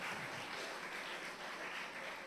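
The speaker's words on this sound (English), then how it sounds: "another big round of applause for Akeem Chandler Prescott" Steady applause from the audience at CARIFESTA XV in Barbados, a dense, even wash of clapping with no speech, fairly soft and distant throughout.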